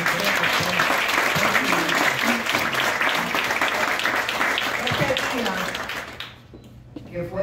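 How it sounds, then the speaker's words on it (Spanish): Audience applause for the Mirabal sisters at a gathering against violence toward women, loud sustained clapping from a crowd with voices mixed in, fading out near the end. "Vamos a dar un aplauso."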